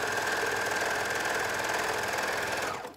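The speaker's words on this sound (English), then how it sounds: "Sew along to the elbow." A sewing machine runs steadily stitching the underarm seam of a tee, a fast even mechanical whir that holds for nearly three seconds before slowing to a stop.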